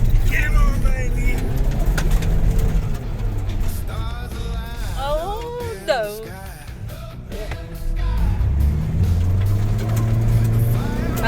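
Vehicle engine strains and revs while climbing a steep driveway hauling 2 tons of swamp kauri root, a rough, rising motor drone under excited voices and shouts, with tyre and engine surges partway through.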